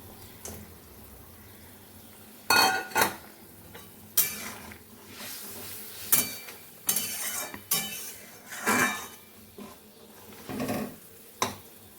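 A metal spoon clinks and scrapes inside a cooking pot as fried dried fish is stirred into a potato curry, with scattered taps over a low background hiss.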